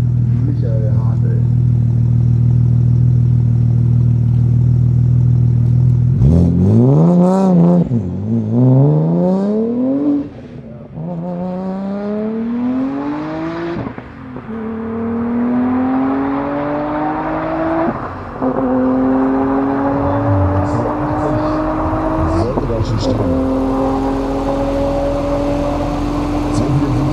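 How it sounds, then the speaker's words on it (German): A 1000 hp Audi RS4 with a TTE950 turbocharger accelerates hard toward 270 km/h, its loud engine note climbing repeatedly through the gears with brief dips at each shift, heard close from inside the car. "Und jetzt hier im Audi RS4 mit TTE 950 Lade und 1000 PS"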